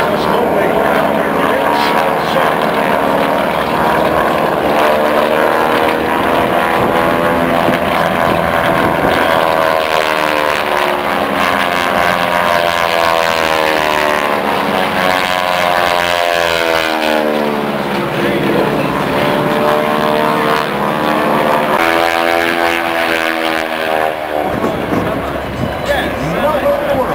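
Propeller planes of the Aeroshell Aerobatic team perform at the Quad City Air Show, a loud sustained engine drone with rising and falling pitch sweeps as they pass, mixed with crowd noise and talk throughout.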